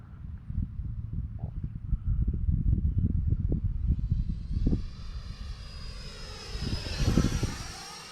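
An Arrows RC Marlin 64mm electric ducted-fan model jet climbs straight up under a steady roaring whine that rises in pitch and grows louder near the end, with the sound shifting as it passes overhead.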